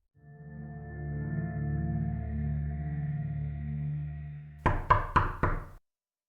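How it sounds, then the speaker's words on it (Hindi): Three sharp, close knocks rap on a door in quick succession after a low, sustained droning tone. "तभी दरवाजे पर खटखट की आवाज आई"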